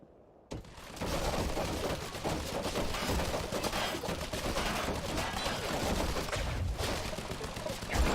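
An automated turret in Quantum Break opens fire after a short quiet lead-in, loosing sustained rapid bursts of gunfire with mechanical clatter that stays loud and dense to the end, talk faintly mixed in.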